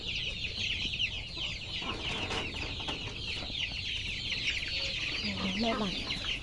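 A flock of hens on a farm clucking and chattering continuously at close to middle distance, with a voice speaking briefly near the end.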